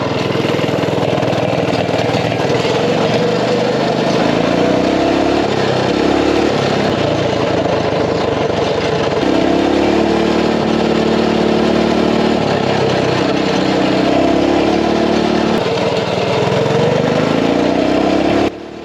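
Small single-cylinder engine of a Coleman CT200U mini bike with a flat tire, riding around a neighborhood at up to about 25 mph, droning steadily and loudly throughout with shifting pitch as it revs up and settles.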